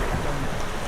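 Waves washing onto a beach at Codugnon Cave in El Nido, a steady broadband rush of surf and wind, loud and continuous with no voices.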